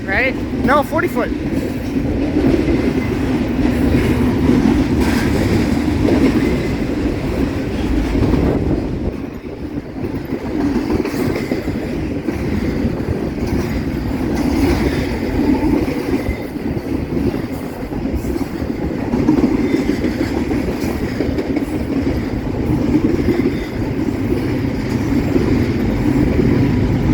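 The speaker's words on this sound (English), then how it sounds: "I think this is a train of 40 foots." Long freight train of 40-foot cars rolling past, a continuous loud rumble with rhythmic wheel clatter and occasional squeal, lasting the whole stretch while people talk over it nearby.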